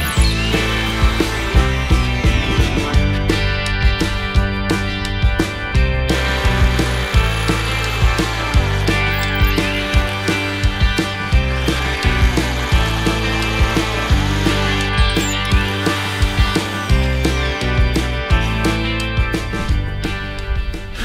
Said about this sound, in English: I'm going to drill some holes